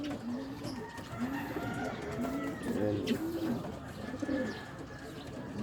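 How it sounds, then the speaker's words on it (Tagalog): Homing pigeons coo repeatedly in soft, rounded calls close by at a loft on a hot day, with a brief spoken word amid the cooing. "Darating yung kalapati natin."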